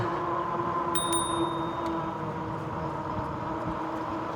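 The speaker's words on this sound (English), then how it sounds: "I like the little bell on the Tektro brakes" A small bicycle bell mounted on a Tektro brake lever of an e-bike rings twice in quick succession, bright and clear, over a steady low background hum.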